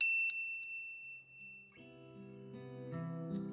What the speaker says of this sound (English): A little bell above the door signals my arrival to an empty counter